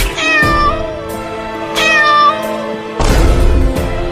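A cartoon cat meows loudly and close, three drawn-out wailing meows in succession, the last one rougher and more strained, with no talking.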